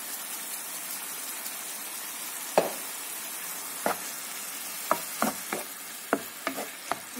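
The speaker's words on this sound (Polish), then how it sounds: "I dusimy nasze mięsko." Meat seasoned with kebab gyros spice and a little salt stews in a pan, a soft continuous sizzle with a scatter of louder crackles and stirring knocks that come faster toward the end, no one talking.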